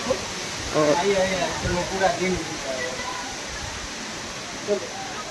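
Steady falling water splashing at the Rock Garden makes a constant broadband rush throughout, while voices talk over it near the start.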